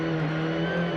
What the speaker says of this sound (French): Et voilà, un petit drift.